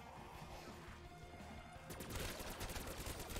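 Fireworks in a zombies round of a first-person shooter, shifting from a rumbling crackle into a dense burst of rapid sharp pops and bangs, loud and close, with no talk.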